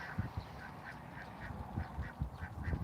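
Repeated quacking calls from ducks, several short honks spaced through the clip over soft background noise, moderately distant.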